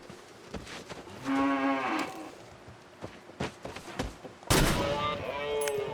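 A moose in the survival game The Long Dark lets out drawn, moaning bellows twice, fairly near, between sharp gunshot-like cracks and a louder blast late on.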